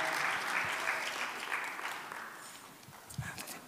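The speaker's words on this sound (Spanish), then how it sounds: "Dale un aplauso en el nombre de Jesús." Congregation applauding at a Spanish-language church service, a steady wash of clapping that slowly thins toward the end, with a few louder claps near the close.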